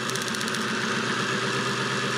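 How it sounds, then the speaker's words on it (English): Six-cylinder engine idling during a coil spark test, a steady even mechanical hum with a fast regular pulse and no talking; any drop in revs is subtle. "listen to the engine dip or drop in RPM"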